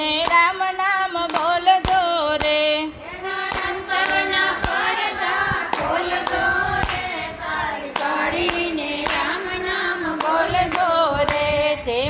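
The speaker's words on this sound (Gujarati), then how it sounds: "તાળી પાડીને રામ નામ" Hands clap in a steady rhythm, loud and close, along with group singing of a devotional bhajan.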